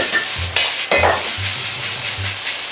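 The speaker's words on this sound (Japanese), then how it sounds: "真ん中の卵は液状の状態でご飯を入れ炒め合わせる。" Rice and egg sizzle in a hot wok, the egg still liquid as the rice goes in, with a spatula scraping and tossing several times in quick, uneven strokes.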